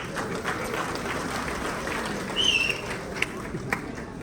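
Audience applause breaks out at a Pune program welcoming the guest Sachin Kumawat, a steady dense wash of clapping under a lively crowd, with a brief whistle rising partway through.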